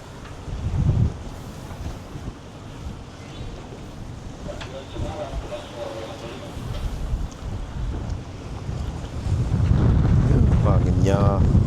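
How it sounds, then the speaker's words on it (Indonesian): Wind buffets the microphone and waves wash around a rocking boat at sea in rough weather, with rumbling gusts that swell loudest near the end and a voice speaking briefly over them. "Nah, itu ombaknya tuh guys."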